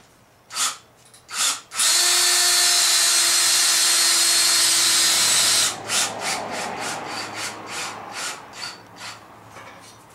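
Two short drill bursts, then a long steady whine as a screw is driven into a compost tumbler, followed by a run of quick rasping pulses.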